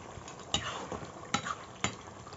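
Chicken kosha being stirred in a pan: a soft sizzle runs throughout, broken by three sharp scraping clacks of the spoon against the metal, close and fairly quiet, with no voices.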